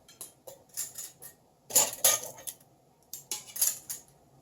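Metal canning jar rings clink and jangle against each other as they are handled, in several short bursts of bright metallic chinks, close by with no talk.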